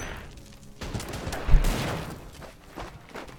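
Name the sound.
MP40 submachine gun firing in Strategic Command WW2 video game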